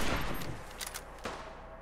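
Gunfire in Fallout 4, a burst of sharp shots near the start, then a couple of crisp reports around the middle and one later, all over a steady noisy game background.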